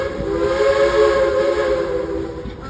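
A loud steam locomotive whistle blows continuously, a bright multi-tone wail with a hissing edge, sustained for a few seconds up close.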